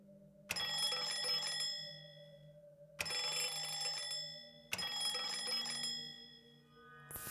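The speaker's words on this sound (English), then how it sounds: "There's a bell button on the elevator." An elevator bell in the video game Lorelei and the Laser Eyes rings three separate times, each a bright metallic strike that hangs and slowly fades before the next.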